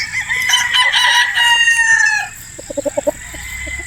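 A gamefowl broodstag rooster crows loudly and close by, one long strained cock-a-doodle-doo, followed by a quick run of short clucks.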